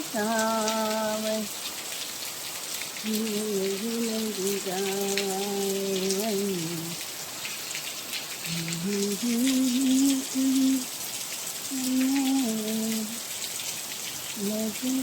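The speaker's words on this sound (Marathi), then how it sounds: "मध्ये मध्ये अशा सरी येतात" Rain shower in the Konkan countryside, a steady hiss of drops falling on surfaces throughout, with a person humming or singing softly in bursts over the downpour.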